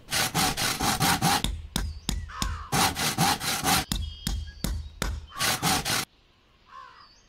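Crafting a hammer from wood and metal parts in a zombie survival video game gives a series of loud, rapid rasping and sawing strokes in quick bursts, then a short quieter tail with a faint chirp.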